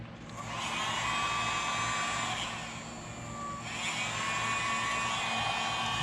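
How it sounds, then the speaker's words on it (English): A heat gun runs on a sandal to activate adhesive, giving a steady close-up blowing whir with a brief dip in the middle, then continuing at the same level. "grab my heat gun over here"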